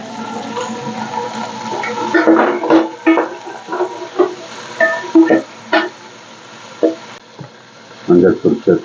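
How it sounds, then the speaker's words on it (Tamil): Vegetables sauté in a pan for bisi bele bath: potato, carrot, drumstick, tomato, beans and peas. Irregular scraping stirs and clattering bursts rise over a steady sizzle, close and moderately loud, with pauses between strokes. "அதை வந்து சேர்த்து நல்லா வதக்குவோம்."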